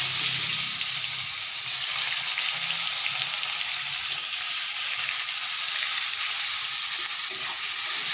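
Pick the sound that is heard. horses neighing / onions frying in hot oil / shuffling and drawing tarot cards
onions frying in hot oil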